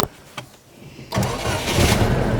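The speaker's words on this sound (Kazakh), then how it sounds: "Көліңіз оталдырып жүрінші?" A gas-powered car is started, a brief crank followed by the engine catching and settling into a steady, loud close-up idle after a quiet moment.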